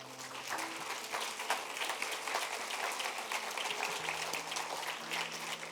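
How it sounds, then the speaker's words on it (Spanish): Church congregation applauding during a Spanish-language sermon on the Gospel of Luke, a dense wash of clapping at moderate volume with a low sustained musical tone underneath, lasting several seconds. "Denle un aplauso al Señor"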